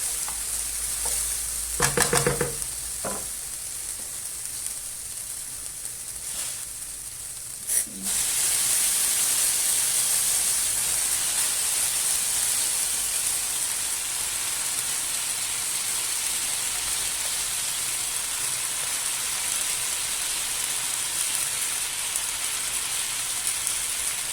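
Spinach sizzles in a pot with tomato paste and spices, a loud continuous hiss rising abruptly after a few scraping clatters, then holding steady close by.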